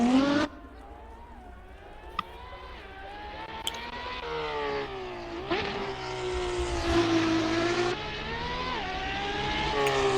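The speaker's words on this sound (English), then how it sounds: "we have the Ferrari FXX Evoluzione from 2008" A 2008 Ferrari FXX Evoluzione track-only car engine drones at high pitch with gear-like rises and dips in tone, loud and sustained, as if passing nearby on a circuit.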